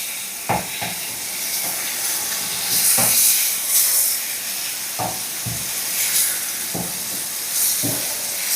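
Brinjal pieces fry and sizzle in a pan, with a steady hiss broken by several soft clatters and scrapes as the slices are turned over, close and fairly loud.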